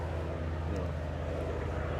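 Steady low engine drone with a propeller-like hum, continuous and fairly distant, with faint voices in the background.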